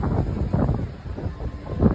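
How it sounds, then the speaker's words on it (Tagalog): Strong outdoor wind buffets the microphone in a steady, loud rumbling roar with gusty surges throughout, no voices over it. "Mahangin kasi masyado eh."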